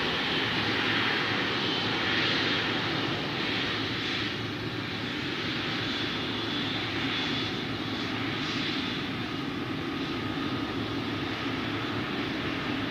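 An Emirates jet airliner takes off from runway 03 at Perth Airport, its engines a loud, continuous roar that holds steady throughout with no voices.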